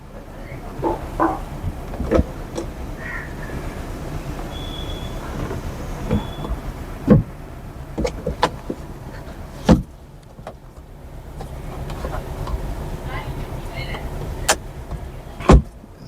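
A motor hums and whirs inside a 2017 Honda City ZX as its sunroof opens, faint and steady, broken by a few sharp clicks and knocks from the roof mechanism, with someone talking briefly at times.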